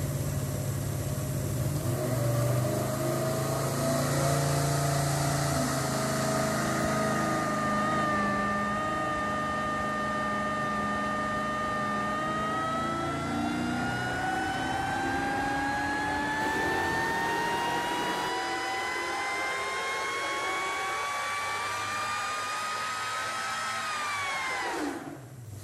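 Engine fed by a carburetor mounted on the back of a junkyard M90 supercharger blower, a loud continuous whining run whose pitch sweeps steadily upward before dropping off abruptly at the end.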